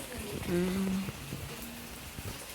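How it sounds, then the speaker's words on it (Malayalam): Steady rain patters in the background while a short, faint tonal sound rises briefly above it. "മഴ"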